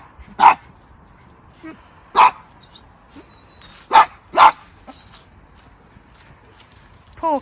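A dog barks in sharp, separate bursts, several in a row with short pauses, fairly close by.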